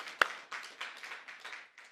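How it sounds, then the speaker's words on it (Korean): A small church audience at a teaching session claps briefly on request, a few scattered, faint hand claps with one sharp close clap near the start, in a quiet room. "얘도 박수 나와야 돼요. 박수."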